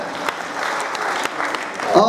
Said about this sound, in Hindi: हम तालियां दे, स्वागत दे करतल ध्वनि